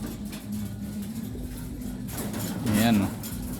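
Soft pigeon cooing, a low warbling coo swelling near the end over a steady background hum.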